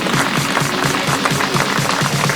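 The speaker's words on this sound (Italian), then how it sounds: "Quindi un applauso alla Bonanno Immobili." Outdoor theatre audience at a beauty pageant final in Cittadella applauds a sponsor with dense, continuous clapping from many hands, loud and close.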